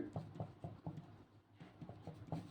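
Pen writing on paper while working through a Class 10 maths solution, a series of short scratchy strokes in a steady rhythm, close and fairly quiet, with no talking.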